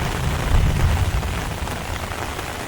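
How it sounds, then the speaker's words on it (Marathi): Steady monsoon rain pattering on a surface in a Konkan village, dense and close, with a heavier low thunder rumble early on and no voices. "बघा पाऊस पडता"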